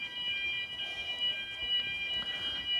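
A fire alarm sounds outdoors near a new private apartment building beside a patch of green space, a steady high electronic tone heard from a distance over faint background noise.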